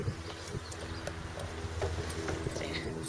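A ridden horse's hooves clip-clop at a slow, uneven pace on the ground during a basic horsemanship session, quiet and close, with faint outdoor background noise.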